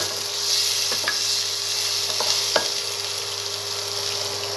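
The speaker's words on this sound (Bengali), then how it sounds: "এই এখন আমার মা পেঁয়াজ দিচ্ছে, আর দিল কপি, গাজর দিল" Onion, cabbage and carrot sizzle steadily in a hot pan while vegetables are cooked for oats, with a continuous frying hiss and a few faint stirring clicks, no voices.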